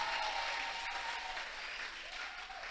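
A church congregation at a Sunday service claps together, a dense, steady burst of applause at moderate distance that fades slightly over a few seconds.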